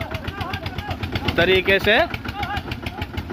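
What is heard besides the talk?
tractor engine running while tipping over burning trolley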